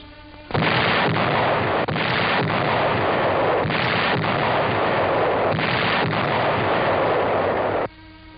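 Heavy howitzer artillery fire in the 1945 battle for Manila booms out in a dense, loud barrage, with repeated blasts merging into a continuous roar for several seconds before stopping abruptly.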